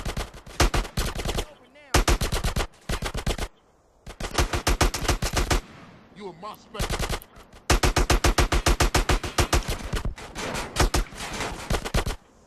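Loud automatic gunfire from Grand Theft Auto: San Andreas, with long rapid bursts separated by brief pauses and a short stretch of quieter ambience partway through.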